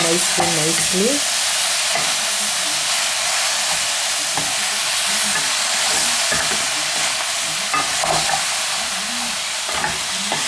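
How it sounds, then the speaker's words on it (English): Tomatoes being mixed in a hot pan with meat give a dense, continuous sizzle and hiss, with occasional utensil scrapes and knocks over the frying, loud and close. "So now you have to mix your tomatoes nicely."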